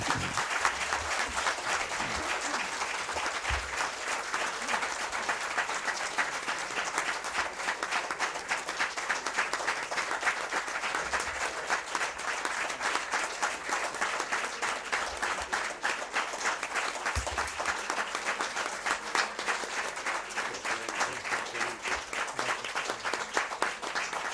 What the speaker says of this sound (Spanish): Muy agradecido, de verdad, por vuestra cariñosa acogida, por estos aplausos.